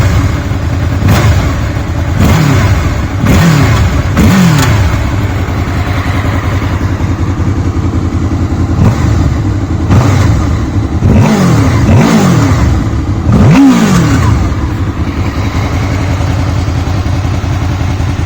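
A 2015 eighth-generation Honda VFR800F with over 11,000 miles sits idling close by, its engine revved in several sharp bursts that rise and fall back to a steady idle.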